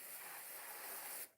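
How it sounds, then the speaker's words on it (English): A steady, airy hiss of a spray bottle misting water over cactus seedlings runs continuously and close, then cuts off abruptly at the end. "So let me spray them."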